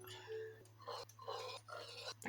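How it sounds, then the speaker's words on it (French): A small dog in Minecraft whimpers and yips in several short, high bursts over a steady low hum, faint and close, with no talk over it. "Il y a un petit chien ici."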